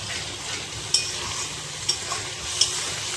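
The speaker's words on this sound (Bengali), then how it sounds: "আর একটু ভালো করে কষিয়ে নেব" Spice masala stirred and sautéing in oil for a Bengali potato curry, a soft steady sizzle with a few sharp utensil scrapes against the pan, close and without speech.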